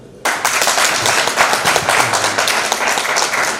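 Loud applause bursts out abruptly from a crowd at the Jashn-e-Shekhawati poster launch event, then continues as close, dense, crisp clapping with individual hand strikes standing out.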